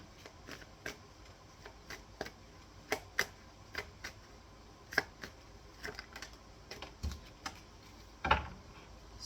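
A deck of tarot cards being shuffled by hand, heard as quiet, irregular crisp snaps and riffles scattered across a faint, otherwise still room.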